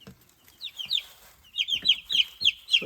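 Baby chicks, among them Cornish cross meat birds, cheep in a brooder with bright, high chirps in quick clusters, closer and busier in the second half.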